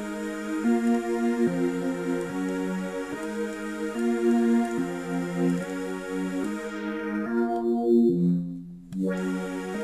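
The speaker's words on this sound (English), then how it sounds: "You get that kind of stadium reverb kind of thing going on." A sustained synth saw chord pulses in repeated stabs, washed in a huge, spacious stadium-style reverb that briefly thins out near the end.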